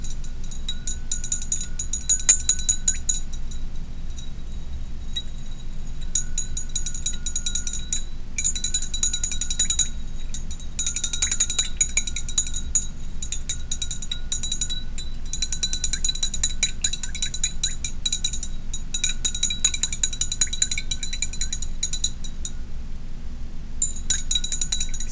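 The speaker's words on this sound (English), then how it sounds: "So I'm going to stir one and not stir the other." Stirring salt into water in a glass beaker makes a continuous light clinking and scraping of the stirrer against the glass, faint and steady, with short pauses.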